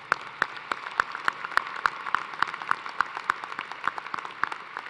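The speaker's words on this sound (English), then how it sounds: "So please join me in a round of applause for all of our staff members that made this" Sparse, fairly quiet clapping at an engineering college commencement, a few hands beating a steady separate rhythm in honor of staff members.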